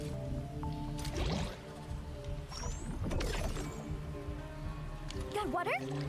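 Game water pouring into a mechanism in Arknights: Endfield, with wet squishing and dripping splashes over steady background music while a voice talks throughout.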